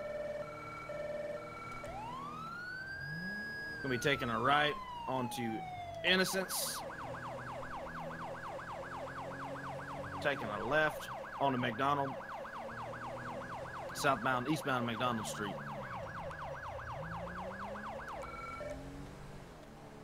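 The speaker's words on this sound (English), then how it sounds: "He's got a siren on and everything." A video game police siren wails and switches to rapid yelping bursts, continuing for a long stretch while someone narrates over it.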